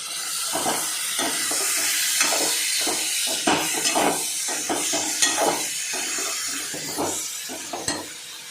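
Pomfret fish frying in a pan at home, a steady close hiss and sizzle with repeated scraping and stirring clatter from a spatula throughout, no talking.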